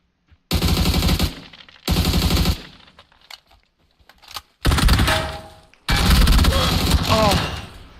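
Vector submachine gun in PUBG, fired in four loud, rapid full-auto bursts separated by short pauses, close and punchy with a clattering rattle.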